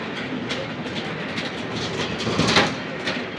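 A bus rolls over a railway track crossing on a rainy-day run from Anakapalle to Vizianagaram, giving a steady rumbling rattle with clacks from the wheels passing over the rails.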